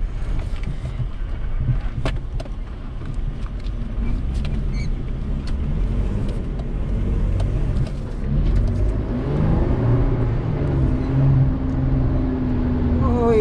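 Off-road vehicle engine revving on the Poison Spider trail, a steady broadband rumble with low harmonic tones rising near the end, continuous and close with wind noise over the microphone.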